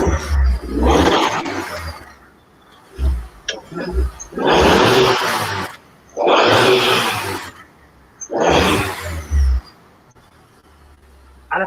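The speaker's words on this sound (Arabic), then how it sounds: "صوت التيربو بيفتح بسرعه" A turbocharged Cadillac sedan engine revs hard four times in long roaring bursts, each swelling and dropping away as the turbo spools, with quieter idling between.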